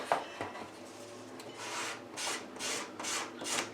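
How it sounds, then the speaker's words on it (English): Sandpaper rubbed by hand across a cradled wood panel, a soft close scratching in a series of short rhythmic strokes that grows steadier toward the end. "I think I need to get some heavier sandpaper."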